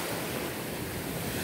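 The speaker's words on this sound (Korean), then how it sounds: "파도 치는 거 한번 보세요" Ocean surf at Daecheon beach in Korea roars in a steady, dense wash of breaking waves with wind buffeting the microphone, loud and continuous throughout.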